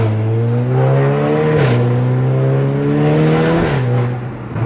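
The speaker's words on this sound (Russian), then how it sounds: "мне всегда в Геленджике нравится нажимать, потому что звук у машины прям какой-то крутой" A BMW 135 with about 400 horsepower revs its engine loudly and close by in a town, the steady drone swelling twice with short throttle blips, with no voices.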